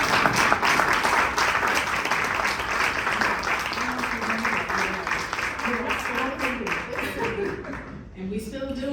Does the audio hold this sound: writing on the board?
no